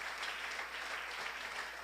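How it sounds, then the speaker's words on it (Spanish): A church congregation gives sustained applause after a sermon, a steady wash of many hands clapping at moderate level with no break. "Démosle un fuerte aplauso a ese Dios maravilloso."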